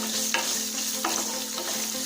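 Small shallots sautéing in a pan for vatha kulambu, a soft steady sizzle with a few light spoon scrapes, close and moderately quiet.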